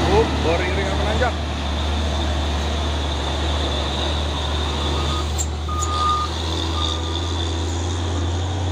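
Two Hino Euro 4 tronton trucks grind uphill in convoy, a steady low engine drone filling the whole stretch with a brief tonal beep near the start and a thin whine later.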